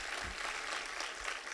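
Audience applause at a conversation event with a filmmaker and a professor, a steady wash of clapping filling the room at moderate loudness from start to finish, with no words spoken over it.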